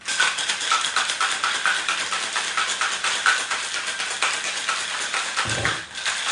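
Vodka and ice shaken in a novelty cocktail shaker, a rapid, steady rattling of ice against the walls that repeats for several seconds close up, ending with a brief low thump.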